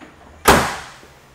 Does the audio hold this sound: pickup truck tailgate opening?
yes